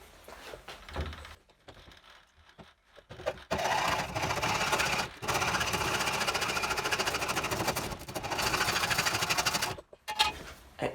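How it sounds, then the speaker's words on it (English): A hacksaw cuts through excess 10mm SWA armoured cable in long, rapid back-and-forth strokes, loud and close, in three sustained bursts separated by short pauses. "just make life easier by cutting this excess off"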